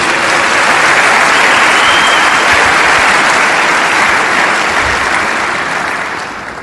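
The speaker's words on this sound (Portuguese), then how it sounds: "Você pode dar um aplauso para esse Deus tão lindo?" Church congregation during a worship service breaks into dense, loud sustained applause, an even wash of many hands clapping that holds steady and begins to fade near the end.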